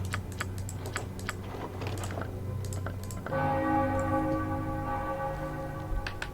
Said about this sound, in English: The bell chimes a second time as the temple shudders as the magic gathers.